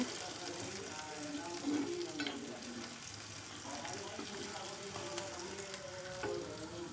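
Asafoetida being sautéed in a pan for a Tamil amaranth greens and dal dish: a steady, fairly loud sizzle of frying that runs throughout with occasional stirring clinks, with a voice speaking now and then over it.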